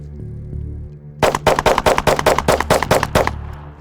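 A Glock 43X or Glock 48 pistol fired with Shield Arms S15 magazines lets off a fast string of about ten sharp, loud, evenly spaced shots at close range after a brief quiet hum.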